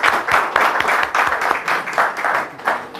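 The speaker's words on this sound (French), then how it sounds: "il faut l'applaudir" An audience at a gathering in Mali applauds a speaker. The clapping comes in short, loud, rhythmic bursts, fairly close, over three seconds.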